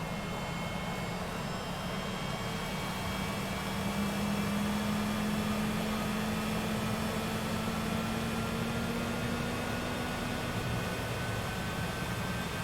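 Citation CJ4 jet engines in a flight simulator game, heard from outside the aircraft: a continuous loud turbine roar with a steady whine and slowly rising tones, alone without voices.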